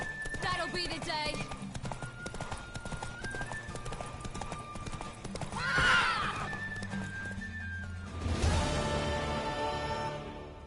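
A horse in The Witcher Wild Hunt clops its hooves steadily and neighs twice, loud and close, with game music in the background and characters talking in places.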